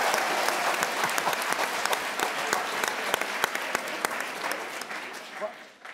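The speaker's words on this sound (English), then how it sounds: "Why does that get applause?" A talk-show audience breaks into applause, a dense, steady burst of many hands clapping that swells briefly and then fades out toward the end.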